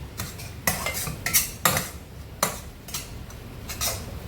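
Spicy masala frying in oil for Khandeshi dhaba-style shev bhaji, stirred with a metal spoon in a pan: rapid close scraping and clinking strokes in an irregular rhythm over a faint sizzle, no voices.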